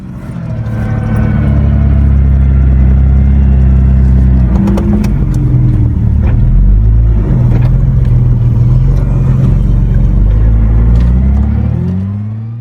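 A jeep driving over bumpy desert ground thick with camel grass in the Wahiba sands, its engine a loud, close, continuous rumble that swells and strains, with jolting knocks partway through and no talk.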